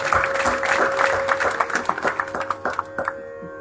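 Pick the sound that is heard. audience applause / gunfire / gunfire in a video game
audience applause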